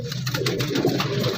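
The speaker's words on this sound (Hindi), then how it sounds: "बहुत अच्छा कबूतर है ये भी" A high-flying pigeon at a Shahdara bird market, with soft continuous cooing and bird calls close by amid busy market ambience, no clear talk.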